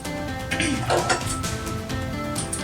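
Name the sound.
pan being placed for roasting spices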